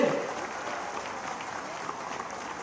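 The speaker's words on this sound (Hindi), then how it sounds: "क्या आप साथियों मेरे साथ एक बार तालियों की गड़गड़ाहट से इनका स्वागत कर सकते हो?" At a Faridabad election rally for a BJP candidate, a crowd applauds to welcome a guest. The clapping is a diffuse, steady wash of moderate loudness that holds throughout.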